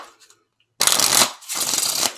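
A deck of playing cards shuffled by hand during a card trick, two quick riffling bursts, close and crisp, with a short pause between them and no talking.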